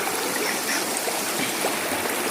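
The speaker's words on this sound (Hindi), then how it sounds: "पानी की आवाज़ हम लोगों को सुनाई दे रही है।" A rushing stream at a jungle pool resort in Nainital flows steadily and continuously, a close, even wash of water with no voices over it.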